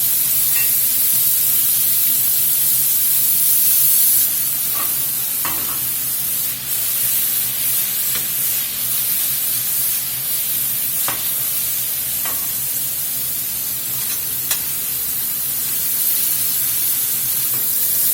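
Beef pieces browning in a hot pan for beef stroganoff, a loud, continuous hissing sizzle lasting throughout, with faint scattered pops and stirring clicks over the steady spatter.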